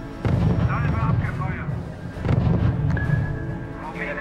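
Artillery fire from the R.U.S.E. strategy game: sustained low booming and rumbling barrages rolling continuously across the battlefield, loud and close, with a game voice announcing status partway through.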